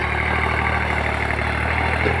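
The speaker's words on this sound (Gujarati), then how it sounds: "તો હાલે છે રોટાવેટર" A New Holland 3602 tractor running a rotavator, its engine giving a loud, continuous mechanical drone and rumble, close by and without pauses.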